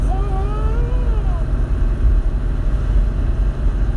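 Close and loud, a Porsche 964 Turbo's air-cooled engine runs with a deep, steady rumble, and a brief rising-and-falling whine passes over it early on.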